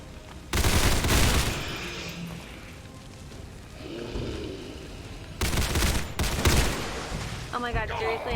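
Bursts of gunfire in the turn-based strategy game XCOM 2, with a loud volley near the start and another pair of heavy bursts later, separated by quieter stretches of game ambience.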